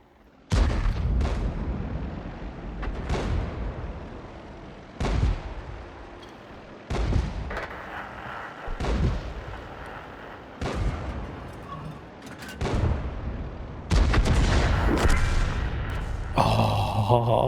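A video game weapon fires in loud, sharp booming shots, spaced irregularly and each ringing off before the next, with a faster cluster near the end.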